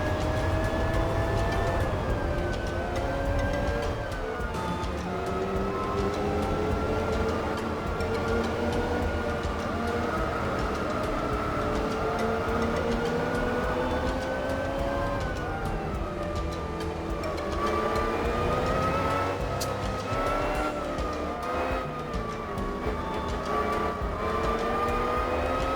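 A tanker truck's engine drones in Gran Turismo 4, a loud, steady, buzzy tone that rises and falls with the throttle throughout, with no talking over it.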